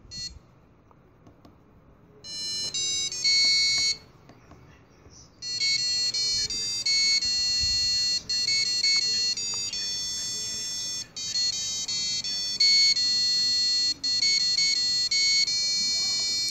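A Christmas tune beeped out by an Arduino piezo buzzer, with shrill electronic tones starting in short bursts after a quiet opening, then running as a steady, piercing melody with brief gaps between phrases.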